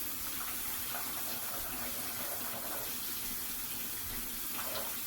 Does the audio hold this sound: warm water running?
yes